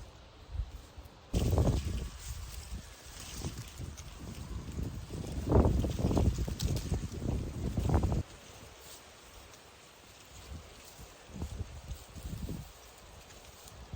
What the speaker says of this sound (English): I'm just gonna block this from the wind because it's pretty windy out here today